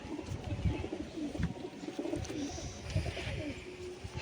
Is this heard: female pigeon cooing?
yes